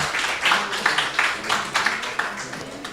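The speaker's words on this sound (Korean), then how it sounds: "오, 박수 쳐드립시다." Audience applause breaks out during a pastor's seminar talk on reviving a dying person, a steady patter of many hands filling the room for about three seconds with no voices over it.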